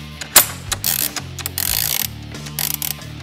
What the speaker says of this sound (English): We took a 3/8 ratcheting wrench and put it on the shaft.